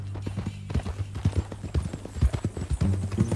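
Horse hooves clip-clop steadily in Red Dead Redemption 2, a close, even walking rhythm with a low engine-like hum beneath and brief voices now and then.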